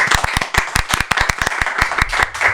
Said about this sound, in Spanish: un fuerte aplauso a Pau